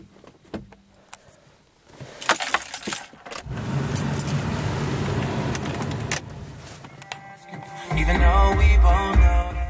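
A 1990 Geo Metro with a 1.0-liter three-cylinder engine goes through a cold start: keys jingle and the starter cranks, then the engine catches and idles loudly, with a brief voice partway through.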